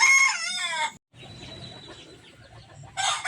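A turkey hen with newly hatched poults on a farm: a loud burst of high, harmonic chirping and peeping at the start, a short silence, quieter murmuring and a thin whistle, then another loud peeping burst at the end.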